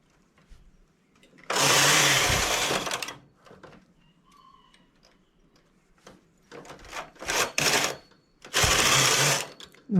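A knitting machine working a child's trapeze-style tank top, its carriage sweeping across in loud whirring passes of a second or so, separated by quiet gaps with small clicks and handling.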